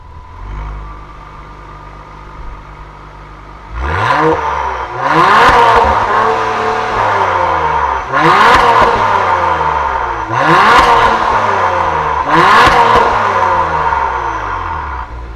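A 2021 Acura TLX Type S engine idles low, then roars up hard through several gears during a 0 to 60 run, each rev climbing and dropping in a loud, close, repeated sweep.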